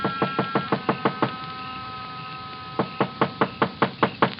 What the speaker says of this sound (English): I knocked.